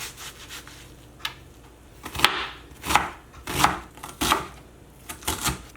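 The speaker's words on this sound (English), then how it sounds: "I'm only gonna cut half an onion" A knife cutting half an onion on a board, several crisp slicing strokes and chops in an uneven rhythm, close and moderately loud.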